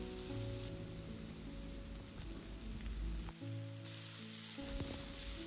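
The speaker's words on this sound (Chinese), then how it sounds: "起锅热油，下入蒜末爆香，再加入切好的蘑菇片" Minced garlic and sliced mushrooms sizzle and crackle in hot oil in a pan, a steady dense hiss throughout with a brief dip partway, close and fairly loud, no talking.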